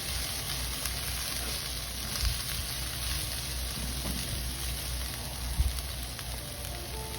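Onions sizzling and caramelizing in a pan for a beef and vegetable stir fry, a steady, soft, even hiss that runs throughout with no voices.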